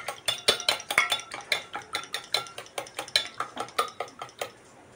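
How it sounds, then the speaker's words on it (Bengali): Egg whisked with a pinch of salt in a bowl: rapid, even taps and scrapes of a utensil against the bowl at about four strokes a second, close and crisp, with no talking. "দিয়ে একটু ভালো করে ডিমটাকে মিশিয়ে নেব"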